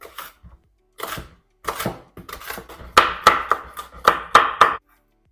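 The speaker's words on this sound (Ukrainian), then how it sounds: "Нарізаю дрібненько." A knife finely chops on a cutting board in quick bursts of sharp taps with short pauses between, close and clear.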